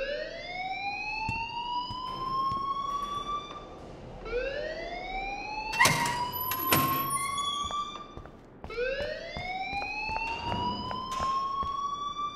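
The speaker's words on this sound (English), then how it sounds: "please turn off that alarm since that's your job" School alarm in Life Is Strange ringing as repeated rising, wailing siren sweeps, three long cycles with a few sharp thumps in between, steady and fairly loud.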